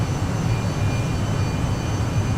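SR-71 Blackbird jet engines at takeoff thrust in a flight simulator game, a steady broadband roar with low rumble, constant and alone.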